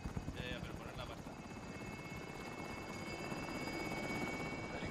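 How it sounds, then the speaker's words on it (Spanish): Helicopter in Call of Duty Modern Warfare, a steady low rotor thrum holding evenly for several seconds at moderate distance, faint and continuous without breaks. "Helicóptero en posición."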